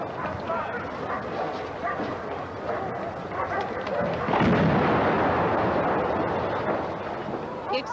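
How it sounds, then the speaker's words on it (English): A bomb explosion at the Iranian Embassy during the 1980 siege, heard as a dense, rumbling blast that swells midway through a continuous din of crowd noise and voices. "explosion ripped through the building"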